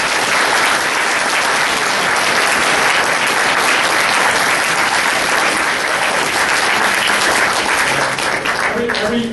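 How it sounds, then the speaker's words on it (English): An audience at a police department awards ceremony gives sustained applause, with loud, dense clapping from many hands filling the room evenly for about nine seconds. "so I'd like to give them a big round of applause."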